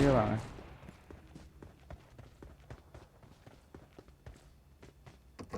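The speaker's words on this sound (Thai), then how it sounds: "ผมได้ยินเสียงเท้า" Rapid, evenly spaced footsteps of a running character in the shooter game PUBG Mobile, sharp soft taps after a louder opening burst, repeating steadily with no voices.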